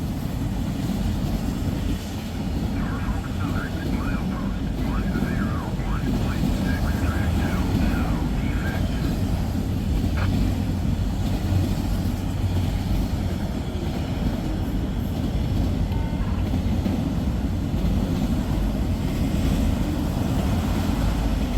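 A loud, steady rumble of a passing freight train with a distributed power unit fills the whole stretch, a constant low roar with faint squeals above it.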